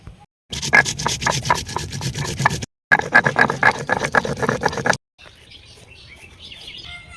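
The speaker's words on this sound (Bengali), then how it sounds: "তো প্রথমে বেটে নেব জিরে" Cumin seeds are ground by hand into a paste on a stone for a rohu fish curry with curry leaves, giving two bursts of rhythmic, gritty rubbing strokes separated by a short pause, close and loud.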